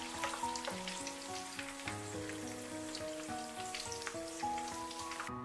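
Lotus root meat rolls deep-frying in hot oil over high heat, a dense, even crackling sizzle with faint popping, heard alongside soft background music and no voices.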